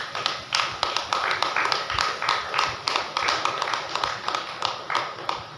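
A church congregation claps hands at a Pentecost sermon, a steady run of sharp, evenly spaced claps that stays close and fairly loud, with faint voices under it.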